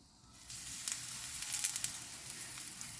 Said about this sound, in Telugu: ఇప్పుడు దీన్ని కాలుద్దామండి ఆయిల్ వేసి.